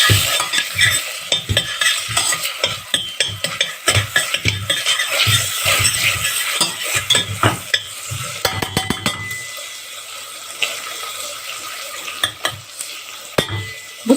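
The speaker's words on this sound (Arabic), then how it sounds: "طبعا انزل على طول بالتومه." Garlic hits melted butter in a hot pan and fries with a steady sizzle, while a spoon stirs and scrapes the metal in repeated close strokes. Scraping thins out midway, then resumes in scattered knocks. A chicken and vegetable dish is being cooked.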